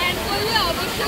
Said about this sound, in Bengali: খুব ভালো লাগলো এই ওয়াটারফলটা